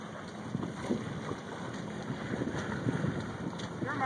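A new sailboat moves through PJ Harbor, with steady wind buffeting the microphone and faint water wash around the hull, a continuous outdoor rush with no clear voices.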